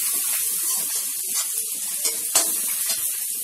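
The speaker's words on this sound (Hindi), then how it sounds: "अदरक का पेस्ट डाल के अच्छे से इसको मिक्स कर लेंगे" Onions and ginger paste sizzle steadily in a pan while being stirred and mixed, a continuous close frying hiss with a few soft scraping and clinking accents, no talking.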